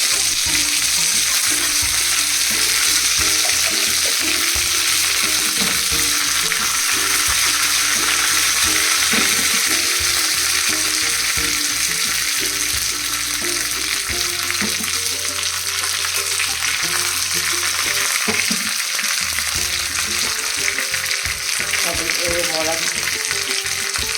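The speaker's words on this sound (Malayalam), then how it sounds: "സിമ്മിലാക്കിയിട്ട് കായ് മുളകിട്ട് കറിവേപ്പില" Dried chillies and curry leaves fry in hot oil for an Onam puli curry, giving a loud, close, continuous crackling sizzle with occasional stirring underneath.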